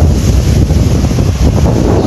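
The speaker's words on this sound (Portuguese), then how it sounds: "Vento de leste, alestada que chama, vento mandando muita força." Strong east wind buffets the microphone in a steady, loud roar during heavy rain along a lakeside shore in Arambaré, Brazil, with no voices.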